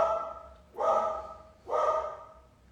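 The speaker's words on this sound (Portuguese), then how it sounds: "minha cachorra latindo" A pet dog barks indoors after a garbage truck passes, giving two loud, drawn-out barks about a second apart with quiet pauses between them and no voices.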